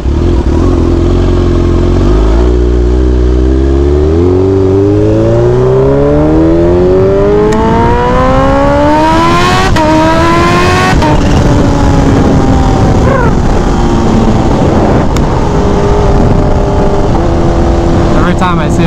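A Kawasaki Ninja H2 motorcycle revs hard and close, its engine pitch climbing steeply through repeated rising sweeps, then dropping and climbing again, loud and dominant throughout.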